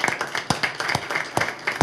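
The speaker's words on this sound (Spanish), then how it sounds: "Por favor, un aplauso." Light, sparse clapping from a small audience at a press conference announcing sports chronicle awards, a handful of distinct claps in uneven rhythm, fairly faint and brief.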